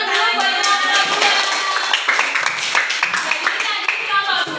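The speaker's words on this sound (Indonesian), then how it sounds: "Tepuk tangan dulu buat anak-anak muda." Young students at a school clapping their hands together in a lively burst of applause, dense, fast and close, sustained throughout with faint voices underneath.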